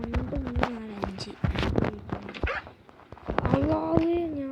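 A dog barks in several short, sharp bursts near a house where interlock paving work is under way, with some whimpering and footsteps in between and a voice speaking over parts of it.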